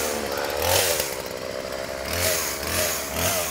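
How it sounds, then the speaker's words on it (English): A chainsaw being started for tree felling, its engine revving up in surging bursts and dropping back between them, loud and close with no voices. "He's going to show you how to fell a tree once he gets the saw started."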